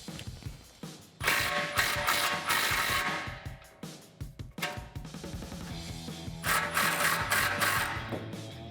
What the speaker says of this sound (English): We're going to unbolt the tailpipes from the muffler first using a 15mm socket